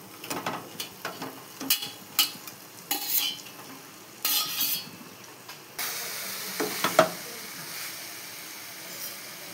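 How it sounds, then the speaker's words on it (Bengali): Fried fish pieces are added to a pan of sizzling tomato and spices and stirred, with irregular scraping and clinking of a metal utensil over a continuous hiss that grows louder and steadier partway through. "এবারে ভেজে রাখা মাছগুলো দিয়ে দেব"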